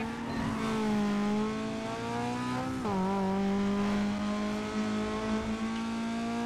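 A race car's engine drones loudly and steadily in Need for Speed Carbon, with the pitch dropping sharply at one gear change before climbing again, and a faint tire squeal.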